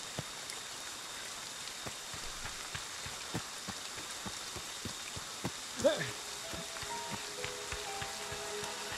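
Steady rain falls in Friday the 13th: The Game, making a soft constant patter with scattered drips and light clicks, while a faint voice talks underneath.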